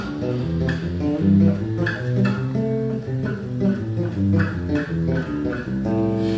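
A bass guitar plays a major scale in sixths, a steady run of melodic notes up and down, a close, continuous line with a few ringing tones and no talking.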